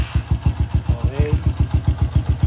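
A Honda XRM110 motorcycle engine runs at a steady idle close by, with a loud rhythmic thumping pulse. A voice briefly speaks over it.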